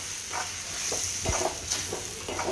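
Semolina is stirred and roasted in a pan with onion and tomato for upma, with repeated scraping strokes over a soft continuous sizzle, close and steady.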